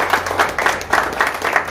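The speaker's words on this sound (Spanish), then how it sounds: "Démosles un fuerte aplauso." A burst of applause from a group at a martial arts black belt event, steady rhythmic clapping that rises and falls in waves, fairly loud and close.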